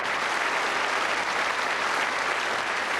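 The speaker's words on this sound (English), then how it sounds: "let's give a nice round of applause" A television game show studio audience in 1993 gives a sustained, even round of applause, a dense wash of clapping that stays loud and steady from start to finish.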